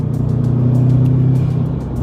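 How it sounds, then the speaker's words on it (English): Turbocharged engine of a Subaru WRX hatchback with a blow-off valve, heard from inside the car: a short, steady low engine drone that rises slightly in the middle and then eases off. "that blow-off valve, we just burning gas going into that blow-off valve"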